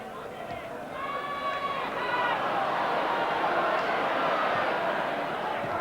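Crowd of 17,500 at Carrow Road for a 1988 Norwich City v West Ham United football match, a broad stadium hubbub rising and swelling steadily, with a distant whistle and a commentator's voice over it.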